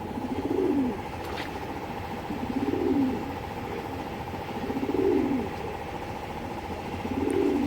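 Pigeons in a loft cooing in slow repeated swells, about four rounded phrases over a steady low hum, close and moderately loud.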